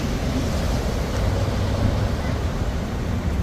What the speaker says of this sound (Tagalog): lakas ng alon hindi masyado malakas pero ang ganda